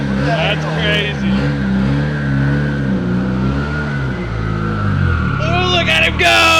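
A turbocharged K-series FRS accelerates hard on a drive, its engine note rising and shifting through gears, loud and continuous, with people talking over it.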